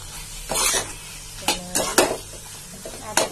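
A spoon stirs tomato chutney in a pan, giving several sharp scrapes and clinks against the metal over a low steady sizzle, close and in bursts with pauses between.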